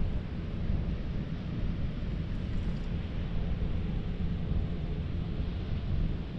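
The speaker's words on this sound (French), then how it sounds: "il y a un petit vent" Wind blows at the Dune du Pilat, a constant broadband rush and buffeting across the microphone with no pauses.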